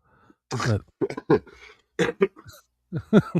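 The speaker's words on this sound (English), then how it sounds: "I was actually coughing." A person coughs and clears their throat repeatedly at close range, in short, irregular bursts separated by brief silences.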